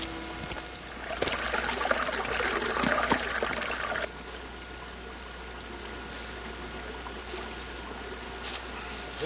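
Creek water flowing in a rocky ravine beside an old railroad grade, a steady broadband rush that is louder for the first few seconds and then settles into a softer continuous trickle.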